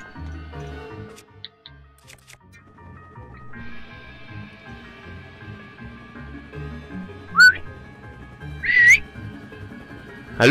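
A short whistled melody from Link in Zelda: Breath of the Wild rises over a ticking game soundtrack, with two clear high whistle bursts near the end, moderately loud and without talk.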